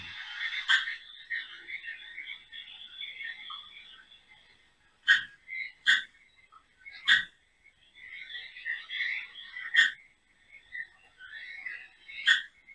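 A frog's high, rattling trills and sharp repeated chirps come in bursts with short pauses, faint and fairly clear against a quiet background.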